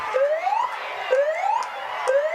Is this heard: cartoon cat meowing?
no